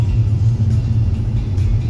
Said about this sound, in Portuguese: agora vamos nesse aqui com 401 cavalos de potência